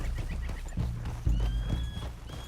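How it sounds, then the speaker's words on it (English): Horse hooves clopping with a whinny in Red Dead Redemption 2, a few heavy close thuds and a high neighing cry over a low ambient rumble. "Watch out! I think you need to rein in that horse a little."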